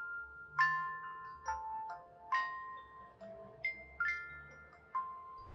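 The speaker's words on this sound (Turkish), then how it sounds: "gördüğünüz gibi saatin üzerinde bir müzik çalıyor." A QCY Watch GT2 smartwatch plays its find-my-watch alert, a soft electronic melody of bell-like tones stepping up and down in a steady rhythm, faint and close with no talking.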